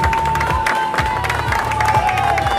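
A crowd at a patriotic marathon applauds and cheers continuously, dense clapping with shouts over an amplified announcer voice and background music.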